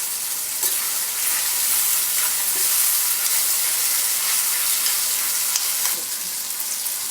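Tomatoes fry in oil in a pan for tomato pickle as washed tamarind goes in, giving a loud, steady, close sizzle with a continuous hiss and a few faint stirring clicks throughout.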